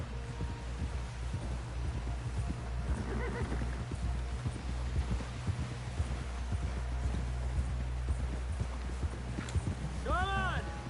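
Horse hooves clip-clop steadily through Red Dead Redemption 2 gameplay, a close rhythmic trot under voices talking, with a horse whinnying near the end.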